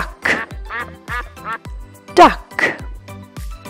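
A duck gives a few short, nasal quacks close up, alone in a quiet setting with brief gaps between calls.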